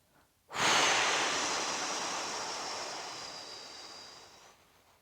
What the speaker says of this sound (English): Full exhale out.